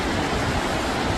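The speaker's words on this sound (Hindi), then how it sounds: "ये दो तरह के झरने थे, एक वो जो शुरू में और एक ये जो चलते चलते।" A monsoon waterfall pours steadily, a dense, even roar of rushing water with no breaks and no voices.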